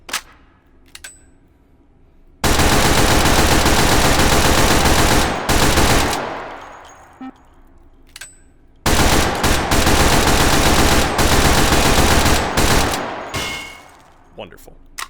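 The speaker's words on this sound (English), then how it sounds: "That is the Sniper's SMG." Sniper's SMG from Meat Fortress, a TF2 firearm adapted for the VR game H3VR, firing two long sustained full-auto bursts, loud and close, with a few short isolated shots and mechanical clicks between them.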